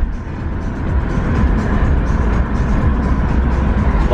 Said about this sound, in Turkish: Oo araba.